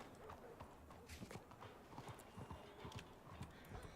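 Video game horse hooves clip-clop in a steady walking rhythm, close and moderately loud, with faint background ambience and no talking.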